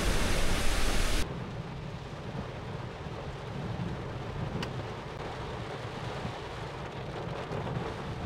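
Torrential rain pouring down at Dawki in Meghalaya: a continuous broadband hiss and wash, louder for the first second, then a steady, even downpour with no talking.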